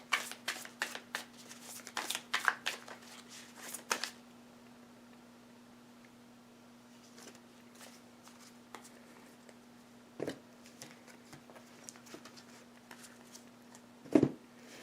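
Tarot cards are shuffled in a few bursts of quick riffling and slapping over the first four seconds. Scattered soft taps and a couple of sharper card knocks follow over a quiet room hum.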